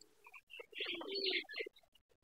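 Pigeons in a loft, a few soft coos and short calls close by, faint against quiet surroundings, with no speech.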